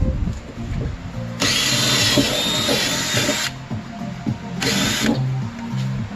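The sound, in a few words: drill drilling out tack welds on a Civic EG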